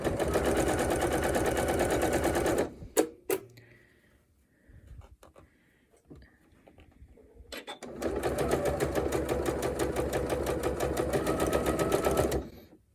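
A sewing machine stitches the curved seam of a half-circle quilt block in two long, loud, rapid runs of stitching. A quiet pause with a few faint clicks separates them.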